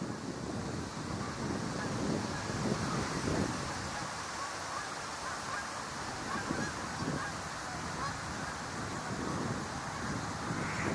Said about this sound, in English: Unfortunately, it is windy.